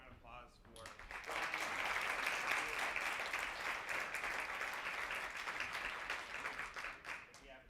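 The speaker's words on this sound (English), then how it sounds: "Give one more round of applause for." Audience applause rises quickly and holds as a dense, steady round of clapping from a crowd at a talk, with some voices mixed in, then tapers near the end.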